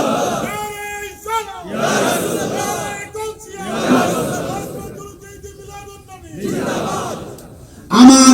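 A large crowd at an outdoor Islamic sermon gathering in Chandpur roars Allahu Akbar in unison, answering a takbir call. The loud chanted bursts repeat several times in a steady call-and-response rhythm.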